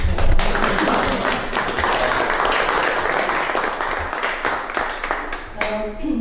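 A crowd in Brežice, Slovenia, at a museum event applauds steadily, a dense wash of clapping that holds at a strong level throughout, with a few voices faintly underneath.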